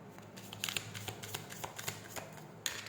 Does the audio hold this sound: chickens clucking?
no